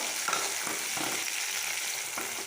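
Onions, curry leaves and green chillies fry steadily in hot oil for sambar rice, a continuous close sizzle with a few soft stirring scrapes, no voices.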